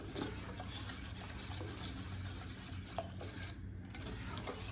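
Rice flour batter for jeerakappam being stirred in a bowl, a steady wet scraping and swirling that runs throughout, close and moderately quiet with no voices.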